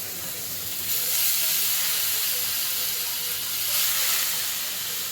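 Soaked moong dal fries in a pan with turmeric, a steady close broadband hiss and sizzle that holds throughout and swells briefly twice, with no talk.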